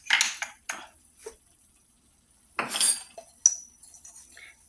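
A metal teaspoon clinks against a bowl and utensils while garlic is added in a home kitchen, a few sharp, close taps and scrapes separated by quiet pauses.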